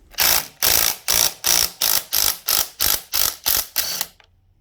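A hand ratchet clicks through about ten sharp, evenly spaced strokes while undoing a 22mm nut on the primary drive of a Triumph Bonneville T140 motorcycle, close and loud, then falls quiet.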